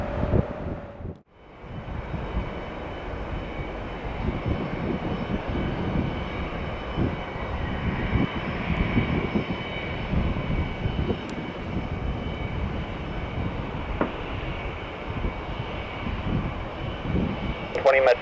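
An airliner on the runway at Detroit Metro Airport during takeoff, a continuous loud engine roar and rumble that swells and holds steadily throughout, with faint radio chatter beneath it.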